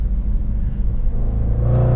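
A Jaguar F-PACE SVR engine rumbles loudly and close, a deep steady drone that builds toward a rising rev near the end.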